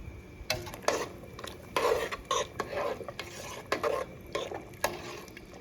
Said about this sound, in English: we're gonna go ahead and add the celery now